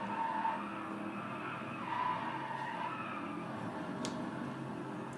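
Tires squealing as a car drifts in the racing game Driveclub, played on a Thrustmaster T80 488 GTB wheel, a steady moderate skid hiss over engine drone with wavering squeal tones and no voices.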